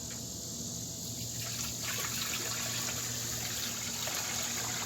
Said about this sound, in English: we got a bucket of hot water that we need to pour in the water pan.